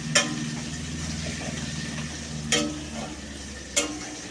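Onions frying in a pan during a dry chicken dish, a steady soft sizzle under a low background hum, broken by three sharp scraping stirs spaced about a second apart.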